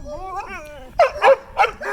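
Sled dogs whine close by, a wavering high whimper followed by three quick, sharp yelps.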